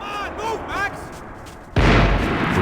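Long-range gunfire in the video game Max Payne 3: a voice speaks briefly, then a loud, sudden burst of distant shots erupts and rumbles on to the end.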